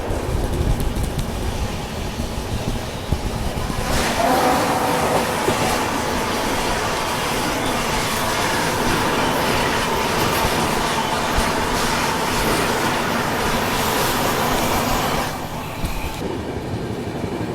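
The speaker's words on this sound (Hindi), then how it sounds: "और सामने से आ रही है कटरा नई दिल्ली वंदे भारत एक्सप्रेस" The Katra–New Delhi Vande Bharat Express passes close by near Madhopur station in Punjab, a loud steady rumble of wheels and carriages that swells, holds, then drops away near the end.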